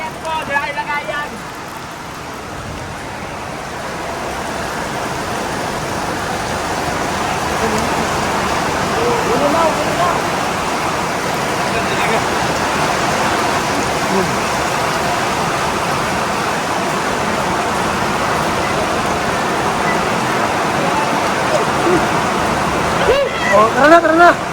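Heavy rain pours down in a dense, continuous roar that builds and holds steady, with people shouting over it now and then.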